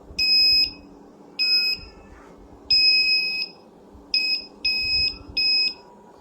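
Metal detector beeping near metal, six sharp electronic tones of uneven length in a broken on-off pattern, loud and close over a low background hum.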